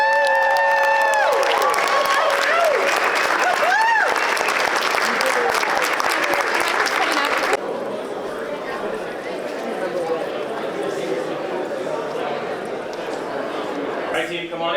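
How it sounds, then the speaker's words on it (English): An audience applauds culinary students at a ProStart championship, loud sustained clapping and some cheering that carries on while a voice speaks over it before easing to a lower level. "how about a hand of applause for our students?"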